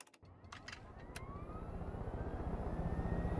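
Helicopter in the video game Far Cry 5 starting up, a low rhythmic rotor thump that builds steadily in loudness under a faint rising whine, after a few short clicks.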